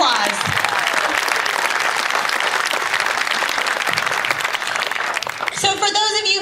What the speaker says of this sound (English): Let's give Morton a round of applause.